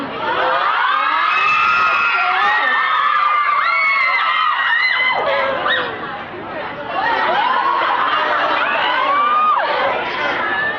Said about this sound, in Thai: พี่เต๋าจะทำอะไรเธอก็กรี๊ดหมดเลยนะ